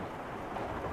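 A major summer thunderstorm arrives after a hot, muggy day, with steady dense rainfall hissing continuously and low thunder rumbling underneath, fairly loud and unbroken throughout.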